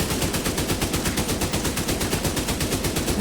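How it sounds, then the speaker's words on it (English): A weapon in The Division 2 fires a steady automatic stream into a wall, with evenly spaced shots ringing out loud and close for several seconds without pause. "I can shoot the wall"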